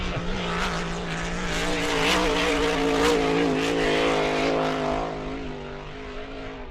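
A racing boat's engine roars steadily at the E C Griffith Cup race, a loud, dense, continuous drone that swells and holds for several seconds, with no voices over it.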